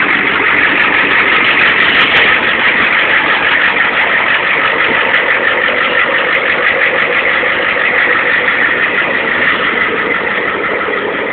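A 7.3 IDI diesel engine idles steadily after a cold morning start, with a loud, close, even rattling clatter that holds without change throughout.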